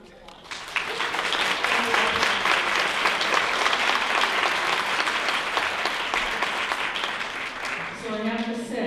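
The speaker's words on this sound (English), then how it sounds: "Let's give her a huge round of applause." A room of lunch guests breaks into strong, sustained applause that quickly swells and holds steady, easing slightly near the end as a voice starts to come through.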